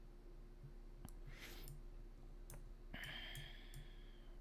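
Computer mouse clicks while navigating a game map, a few sharp, quiet clicks spaced apart over a low background hum.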